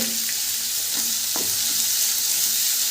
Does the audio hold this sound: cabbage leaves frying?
yes